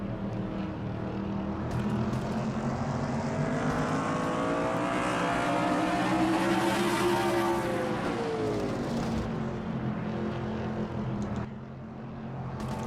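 Stock cars racing in a NASCAR-style video game league, lap 72 of an oval race, engines droning loudly and continuously with a rising and falling whine as the pack passes, over a steady broadband roar.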